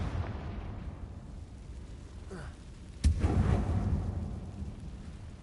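A Confringo fire spell bursts inside an abandoned mine in Hogwarts Legacy, a single sharp blast that rolls into a rumbling roar above a steady low ambient drone, with no voices.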